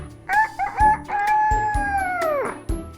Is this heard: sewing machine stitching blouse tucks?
no